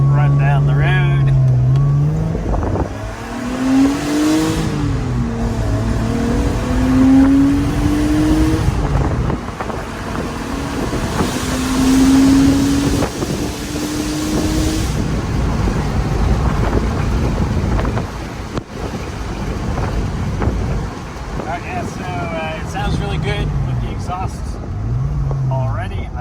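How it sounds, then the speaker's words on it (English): Porsche Boxster 986/987 with the stock exhaust snorkel still fitted, driving down a road; a steady engine drone with rising and falling rev tones runs throughout, with wind buffeting and people talking over it. "So we're gonna take it for a quick spin for the before to see what it sounds like with the snorkel still in."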